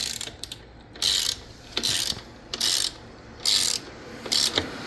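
A ratchet wrench turns a 14mm bolt on the rear shock of a 2024 Honda Navi scooter, sounding as five crisp, evenly spaced bursts of rapid clicking with quiet pauses between strokes.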